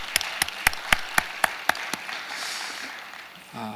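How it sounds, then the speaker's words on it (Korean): A congregation breaks into applause after a call to give glory to God, opening with a few sharp, evenly spaced claps that quickly blend into a dense wash of many hands clapping, then fading out, with no talking. "영광 받으신 하나님 앞에 우리 다 같이 한번 존귀와 영광의 박수를 올려드리겠습니다"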